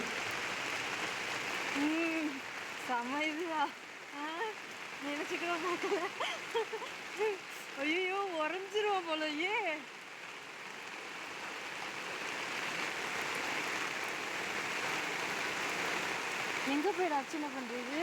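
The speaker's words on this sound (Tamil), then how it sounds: "இதுதான் கோயில் என்ட்ரன்ஸு பாருங்கள் மழை பெஞ்சிக்கிட்டே இருக்குது" Rain keeps falling at a hillside temple entrance in Kodaikanal, a soft steady wash under a person talking for much of the time.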